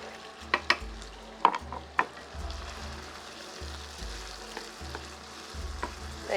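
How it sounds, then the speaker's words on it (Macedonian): Onions softening in a frying pan give a steady quiet sizzle, with a few sharp clicks and taps of stirring early on and no voices. "Убаво да омекне кромидот, а после тој ќе си се крчка во тавата."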